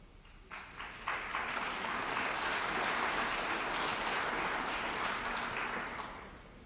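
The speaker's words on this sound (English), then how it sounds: "Let's give them another round of applause while they get set up." An audience applauds at the Angelina County 2020 primary political forum for County Commissioner Precinct 1 candidates; the clapping swells within a second into steady, dense applause and eases off at the end.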